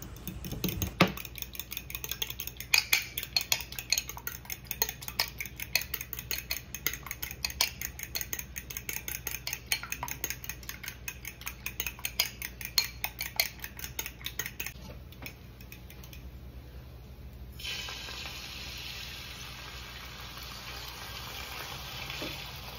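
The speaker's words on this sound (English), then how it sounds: "I'm scrambling these eggs." Eggs being scrambled in a pan, a quick repeated clicking and scraping of a utensil against the pan for about fifteen seconds over a faint sizzle, then quieter hiss, no speech.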